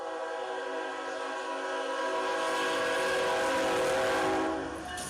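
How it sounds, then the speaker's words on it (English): A loud freight train rolls past during a nighttime tornado warning in Illinois, its horn sounding in long sustained blasts that swell and hold over the steady rumble of the cars, with no talking. "We got a train coming by during a tornado warning."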